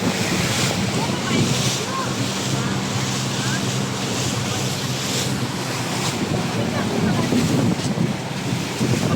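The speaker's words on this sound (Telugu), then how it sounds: "అంత స్మూత్ గా అయితే పోతుంది బోటు" A passenger boat crossing the sea off a Kuwait beach, its hull running through waves amid steady wind and surf noise, a continuous loud wash with no clear voices.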